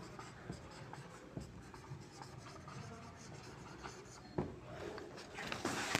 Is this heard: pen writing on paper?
yes